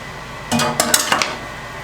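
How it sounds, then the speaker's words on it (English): A spoon stirs mashed new potatoes with sour cream in a pot. Brief clinks and scrapes of metal on cookware come up close, lasting under a second, over a quiet room. "And I'll stir that around"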